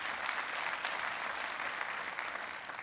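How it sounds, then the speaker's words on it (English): A crowd applauds at a county sheriff's awards ceremony, a dense, even roar of clapping that holds steady throughout, somewhat distant in the hall. "Please give them a big round of applause."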